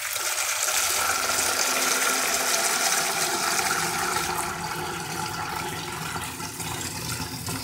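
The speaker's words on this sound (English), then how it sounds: "Collect some tap water into that." Tap water pours steadily into a kitchen bowl, a close, continuous gushing and splashing that holds loud for the whole stretch, easing slightly toward the end, with no voices.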